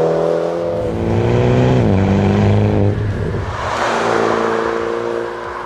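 Mini John Cooper Works GP 2020 engine, a 306 hp hot hatch, drops through a slow downshift: steady engine tone stepping down in pitch, a brief rev blip, then settling again, loud and close with no talking.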